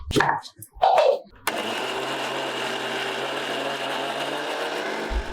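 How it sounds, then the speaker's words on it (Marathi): A kitchen mixer grinder blends amla with a small piece of peeled, chopped ginger. After a few short knocks, it settles into a steady, loud, continuous whirring drone that runs to the end. "आणि आता हे मिक्सरला बारीक करून घेऊया"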